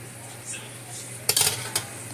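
Onion and garlic being stirred in a hot frying pan with shrimp for a cabbage stir fry, a utensil scraping and clinking against the pan in a short burst of clatter over a low, steady background hum.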